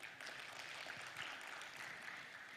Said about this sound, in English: Give applause, ladies and gentlemen.